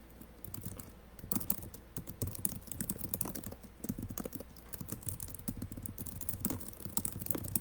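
Fingers type on a computer keyboard in irregular bursts of close, crisp key clicks with short pauses, fairly quiet and alone with no voices.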